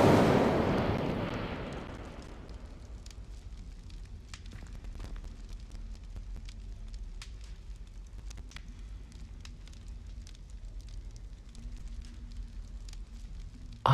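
An Incendio fire spell in Hogwarts Legacy bursts out with a loud whooshing flare, then settles into a long, quieter crackling burn with scattered sharp pops.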